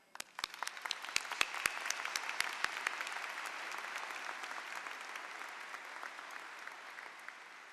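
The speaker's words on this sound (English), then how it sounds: "Let's applaud our fine arts program" A crowd at a high school graduation ceremony applauds the fine arts program. Sharp individual claps at first quickly swell into sustained, even applause from a large audience.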